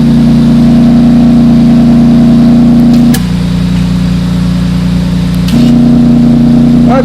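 Infiniti Q50 with a VR30 engine and valved exhaust idling after a cold start, a loud steady drone that drops to a softer, lower tone midway as the valves close, then returns to the fuller note.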